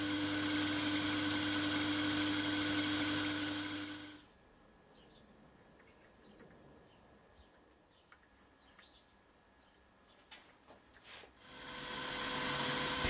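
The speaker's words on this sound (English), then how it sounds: "drill and tap the first hole." A loud, steady high-pitched whine of a drill runs for several seconds, falls quiet with faint ticks and chirps, then starts up again, while drilling and tapping a bolt hole in a metal cylinder cover.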